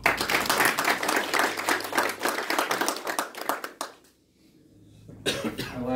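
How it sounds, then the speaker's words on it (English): An audience at a county Republican meeting gives a loud, sustained round of clapping that fades to near silence, then a brief burst of hands and a cough follow. "Bobby, let's give him a round of applause."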